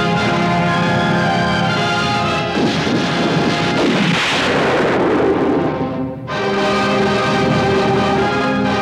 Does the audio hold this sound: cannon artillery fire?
yes